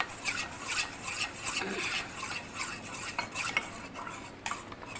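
Spoon stirring a papaya pudding mixture in a bowl to dissolve lumps, with steady close scraping and clinking strokes repeating over several seconds, no talking.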